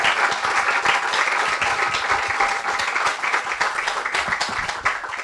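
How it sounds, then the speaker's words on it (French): An audience at a talk session applauds its three speakers with sustained, dense clapping, steady and fairly close, with a few faint voices in the room. "Merci, on va applaudir nos 3 intervenants."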